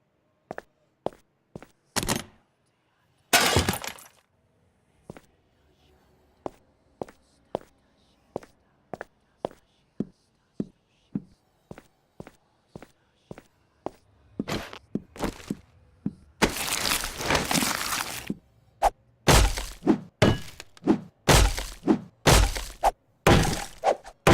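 A pickaxe strikes concrete blocks in the video game 7 Days to Die, sharp isolated cracks and thunks coming at a steady pace, then louder crumbling breaks cluster near the end as blocks give way.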